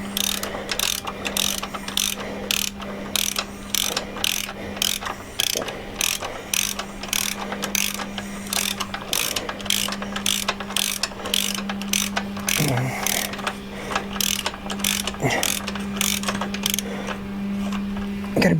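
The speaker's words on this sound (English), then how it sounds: "I'm taking these main engine bolts out with a 3/8 ratchet." A 3/8 ratchet clicks rapidly in repeated strokes as the main engine bolts come out of a Triumph Bonneville motorcycle during a crash bar install, close and loud, over a steady low hum.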